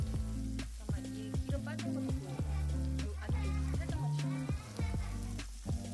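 Meat sizzles on a Sarak meat-only grill in a steady, close frying hiss, broken by short clinks and scrapes as it is turned, with a voice murmuring faintly in the background.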